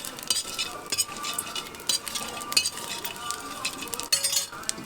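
Spices are rubbed into vegetables in a cooking pan, giving irregular scraping, clinking stirs over a soft sizzle of frying, close and alone.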